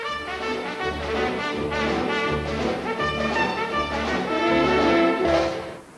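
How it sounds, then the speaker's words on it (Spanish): A full orchestra plays a jaunty, charleston-like passage of Gershwin's An American in Paris, featuring a trumpet solo over a steady rhythmic accompaniment, loud and continuous before fading at the end. "Hay un solo de trompeta en ella, como un charleston."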